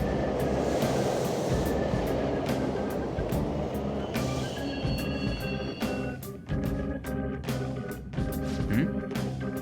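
A train pulls into a station in the video game Persona 5 Royal, a loud rumbling roll with rattling clacks and squealing brakes as it slows to a stop, with a voice talking briefly over it.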